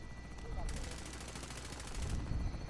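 Rapid automatic gunfire in a Call of Duty Warzone Plunder match: a fast, continuous burst of shots lasting over a second, moderately loud over background game ambience, with a player's voice faintly present.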